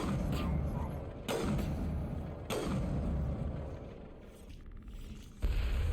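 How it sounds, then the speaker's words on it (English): Several heavy booming blasts go off at irregular intervals over a constant low rumble, loud and close, explosions in the video game Mass Effect Legendary Edition. "Oh, explosions!"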